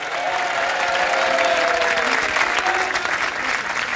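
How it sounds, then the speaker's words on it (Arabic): A television studio audience on a Moroccan talk show claps warmly and continuously, a dense, steady wash of applause that holds its level throughout. "دابا بغيتكم تصفقوا معايا بحراره عافاكم على طاليس وفدوى طالب"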